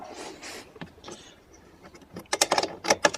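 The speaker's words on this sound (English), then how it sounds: "I'll just use the wrenches here, using the ratchet" Ratchet wrench working bolts on the steering assembly of a Pengor Penguin, close quick bursts of clicking and metallic rattling that grow louder and denser toward the end.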